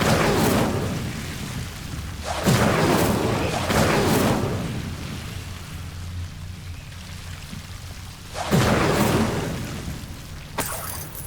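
Incendio fire spell bursts in the video game Hogwarts Legacy: loud, broad whooshing flame blasts near 2.5, 3.8 and 8.6 seconds, each swelling then fading, over a steady low game rumble with no talk.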